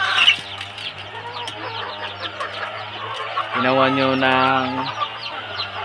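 A large broiler crossbreed rooster clucking nearby, giving a sustained throaty run of clucks over farm background noise while someone talks.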